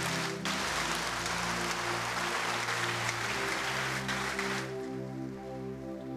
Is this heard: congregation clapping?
yes